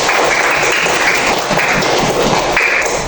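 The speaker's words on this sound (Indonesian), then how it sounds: "Tepuk tangan dulu buat Bintang." A classroom of students applauds a classmate named Bintang, producing a dense, loud, continuous wash of clapping that stays at an even level.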